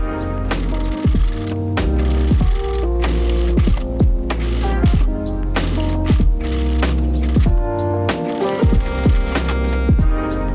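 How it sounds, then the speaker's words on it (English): Sewing machine stitching a fabric hem 1 cm in from the edge on a mini skirt: a close, steady mechanical whirr with rhythmic clicking bursts and short pauses between runs, no voices over it. "stitch it in place, sewing 1 cm in from the edge"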